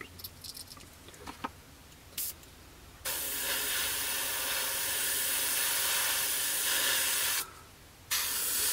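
An airbrush spraying paint onto the canopy of a Kinetic 1/48 scale Pucara model, a steady close hiss lasting several seconds after a few faint clicks, briefly stopping and then resuming.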